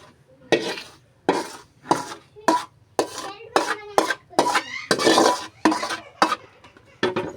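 Roasted semolina scraped and scooped from a pan onto a plate, a series of about a dozen close, distinct scraping and clinking strokes in an uneven rhythm, with no talk.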